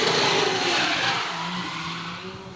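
A drift car at a Southeast Asia Drift Series round, thought to be limited to about 5,000 RPM, revs hard while its tires skid and squeal in a loud, steady burst that fades slightly toward the end.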